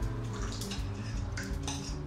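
Melted chocolate and butter poured into an egg yolk mixture in a bowl, with soft wet glugging and dripping plus faint bowl and utensil clinks, close and brief.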